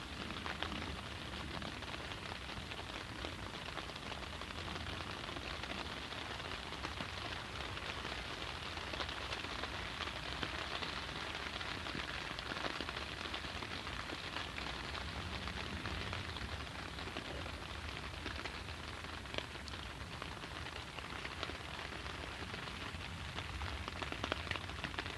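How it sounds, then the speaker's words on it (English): Steady rain falls outdoors at a heathen festival, a dense continuous patter on surfaces that stays even and fairly quiet throughout, with no voices. "we will let you just listen to the rain for a minute or two, just so you can get the total ambience of where we are."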